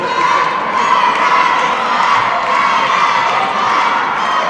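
A large indoor crowd in a goalball hall at a European championship match cheers and shouts continuously, loud and sustained with a dense roar of many voices.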